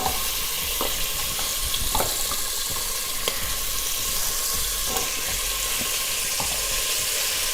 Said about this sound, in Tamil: கொடமிளகா, வெள்ளரிக்காய், காலிஃப்ளவர் சேர்த்துட்டு 1 நிமிஷம் நல்லா வதக்கிக்கலாம்